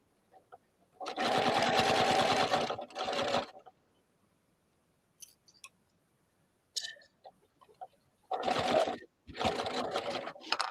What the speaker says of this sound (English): Just to do a line of stitching here.